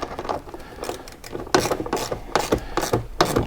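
A ratchet wrench tightens plastic mud flap bolts on a 2021 Ford Bronco Sasquatch, giving rapid close clicking in short repeated bursts.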